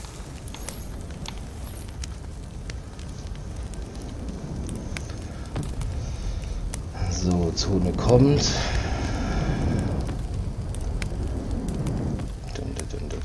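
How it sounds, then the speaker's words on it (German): A campfire crackles in the video game Fortnite, with soft continuous popping beneath busy game noise and someone speaking German over it throughout. "Wie ihr seht, einfach die Lagerfeuer benutzen"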